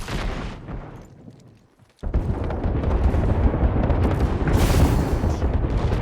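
Artillery barrage explosions in the video game Apex Legends: after a fading rumble and a brief lull, a loud, continuous roar of overlapping booming blasts rolls on without letup.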